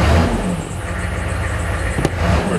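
Engine of a Weasel vehicle with a crooked alternator revving in neutral with the emergency brake on: a steady low rumble that dips and swells, with a single sharp click near the end.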